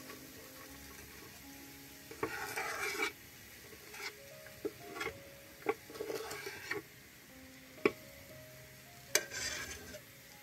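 Chopped onion sizzling in oil in a pan, a quiet steady fry with bursts of stirring, spoon scrapes and occasional clinks against the pan, no voices.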